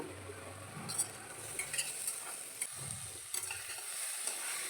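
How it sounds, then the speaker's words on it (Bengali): Capsicum, carrot and green peas fry in a pan, with a quiet, steady sizzle beneath a few light scrapes and clinks of a utensil stirring the vegetables. "মটরশুঁটিটা দেওয়ার পরে আমি আরও 2 মিনিট ভেজে নেব"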